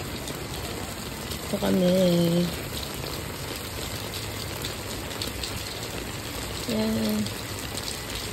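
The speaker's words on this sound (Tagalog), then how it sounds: "Ganyan kalakas yung ulan." Heavy typhoon rain pours in a steady, dense hiss throughout, with a person briefly talking over it twice.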